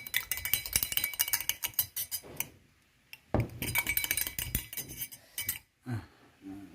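A spoon clinks rapidly against a glass while stirring a homemade cough remedy with kecap, bright metallic chinks in quick bursts broken by short pauses.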